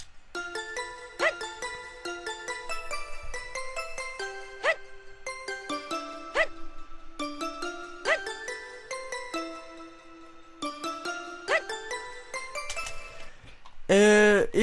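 Bell-like chiming tones play a melody in a quick, bouncing run of repeated phrases within a techno remix, clear and fairly soft, ending with a short, louder burst of a different sound.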